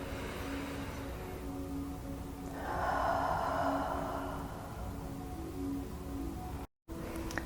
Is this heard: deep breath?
yes